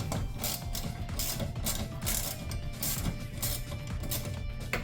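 Mechanical clicking and rattling from work on the arm of a Transformers pinball machine as it is loosened, a busy, close, continuous run of small metallic ticks and ratchet-like sounds with no talking.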